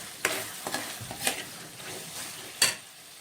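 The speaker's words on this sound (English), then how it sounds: "and then just stir it for a while." Brinjal curry (ennai kathirikai kulambu) sizzles in oil in a pan while a spoon stirs it, producing soft scraping strokes and a few sharper clinks over a continuous gentle frying hiss, close and clear.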